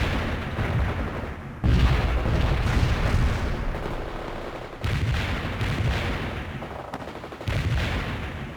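Mortar barrage in a military video game: a series of heavy booming launches about every three seconds, each followed by rumbling, crackling gunfire, loud and close with no talking.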